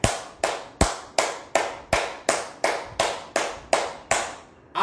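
Eleven sharp hand claps come at an even, brisk pace during a yoga exercise. Each is close and crisp, and they sound alone, with no talk.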